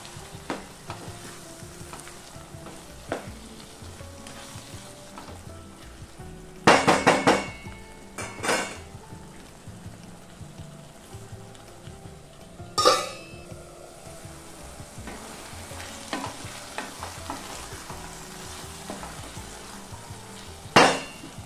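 Finely chopped tomatoes hit hot oil and are stirred into mutton keema with potatoes and peas, a steady close sizzle broken by a few sharp spoon-on-pan clanks, with no voices.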